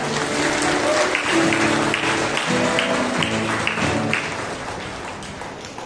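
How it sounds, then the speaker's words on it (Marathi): A congregation claps together at a Monday prayer meeting, loud rhythmic applause with a steady beat that gradually fades toward the end. "प्रभूला धन्यवाद. टाळी वाजवा."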